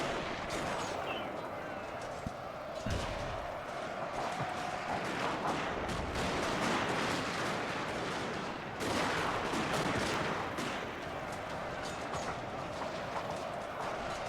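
Troops open fire in a Shogun 2: Fall of the Samurai battle, a steady crackle of massed rifle volleys over a thick roar of combat with hoofbeats mixed in and heavier booms, heard at moderate distance throughout.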